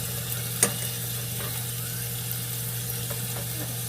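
Spring rolls frying in a pan, a steady close sizzle over a low hum with one sharp clink and a few faint taps as the rolls are turned.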